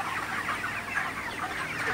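A flock of broiler chickens clucks in a dense, continuous chorus nearby as they gather after being sprayed with water during hot weather.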